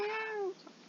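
A house cat gives a single drawn-out meow, close and clear, sliding down in pitch before stopping abruptly.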